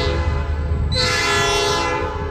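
A train rolls past a road intersection with a steady low rumble, and partway through its horn blares in a long, loud sustained blast with no voices.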